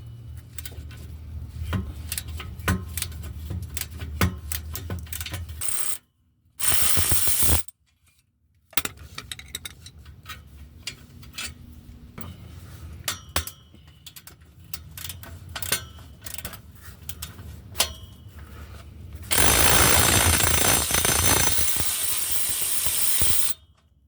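A ratchet wrench clicks in quick, uneven bursts while removing catalytic converter nuts on a Honda Accord 2.4L, broken by short pauses and two loud hissing blasts.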